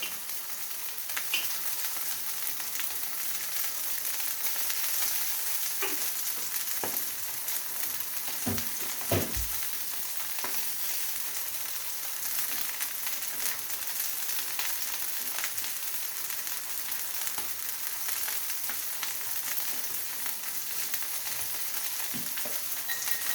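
Curry frying in butter in a pan gives a continuous soft sizzle and crackle, with a few faint clinks and stirring sounds, no talking.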